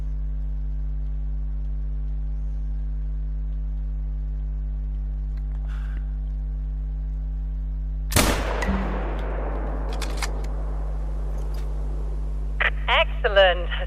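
A single sharp rifle shot in The Hunter: Call of the Wild, fired at a distant game animal around 300 meters away, cracks loudly over a steady in-game hum, followed by a decaying echo and a few faint clicks.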